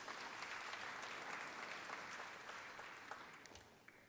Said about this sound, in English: please, a round of applause for our mayor